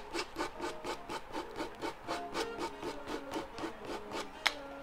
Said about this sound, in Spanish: Voy a igual a lijar de este lado.